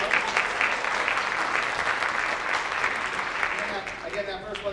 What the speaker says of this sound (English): you can give us a round of applause